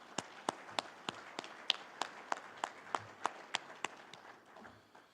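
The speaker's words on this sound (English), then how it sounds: "I would ask that everybody join me in a round of applause in recognizing their day-to-day efforts" Scattered hands clapping at a high school athletics association council meeting, honoring the association staff; sparse, evenly spaced claps at a moderate distance, thin and quiet rather than a full ovation.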